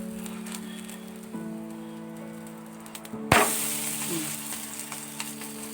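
Coconut and lentil adai dosa batter cooks on a hot pan, a soft steady sizzle that swells abruptly into a louder, brighter hiss partway through and stays up, close by.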